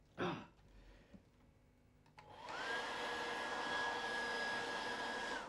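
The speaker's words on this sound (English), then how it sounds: "Now let's get the hairdryer." A handheld hairdryer is switched on to dry watercolour paint. After a brief breath and some quiet handling, it starts with a sharp rise into a steady, close, whirring blow with a thin high whine.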